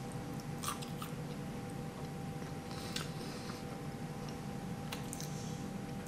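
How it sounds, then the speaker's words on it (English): Mac and cheese bites, softened after soaking in marinara sauce, chewed close up with soft moist mastication and occasional faint crunches, no talking, over a low steady background hum. "I'm gonna try the mac and cheese bites now"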